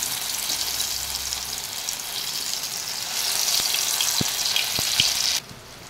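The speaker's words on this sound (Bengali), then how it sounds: "এই যে বড়াগুলোকে এক এক করে তেলের মধ্যে দিয়ে দিয়েছি।" Shrimp-head and lentil-paste fritters frying in hot oil, a dense, close crackling sizzle that swells midway, with a few faint clicks, before cutting off abruptly near the end.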